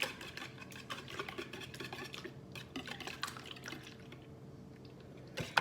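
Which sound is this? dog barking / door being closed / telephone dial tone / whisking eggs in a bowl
whisking eggs in a bowl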